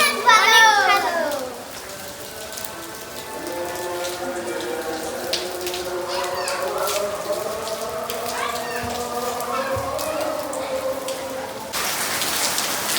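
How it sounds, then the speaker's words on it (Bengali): Heavy rain pours down in Dhaka after intense heat, a dense, steady patter of drops on surfaces throughout, with people talking over it. "প্রচণ্ড বৃষ্টি হচ্ছে, প্রচণ্ড বৃষ্টি"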